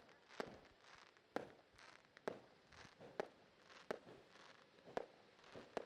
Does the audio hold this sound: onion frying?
no